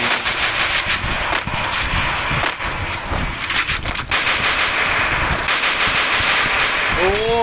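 Video-game machine-gun fire crackles in dense, rapid bursts with brief gaps, loud and near, and a voice is faintly heard beneath it.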